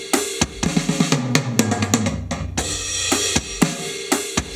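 A drum fill of 16th notes rolls across snare and descending toms in quick strokes, followed by crashing cymbals and steady hits, loud and close.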